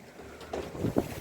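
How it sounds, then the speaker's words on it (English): A short gust of wind rushes past on a sailboat underway, a brief swelling whoosh that builds toward the end of about a second, heard alone without talk. "This is some sort of a gust coming in here"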